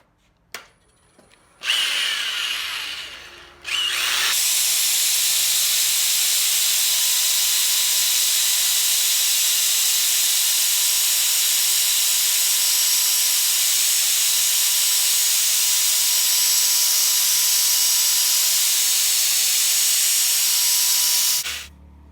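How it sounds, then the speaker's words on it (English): A drill spinning a 60-grit sanding disc grinds against an oak crotch bowl, a loud, steady hissing roar. A short rough burst of sanding comes first, then one long unbroken pass, and the sound stops abruptly at the end. "I'm just gonna do a little sanding, knock down the rough spots before I put a sealer on it."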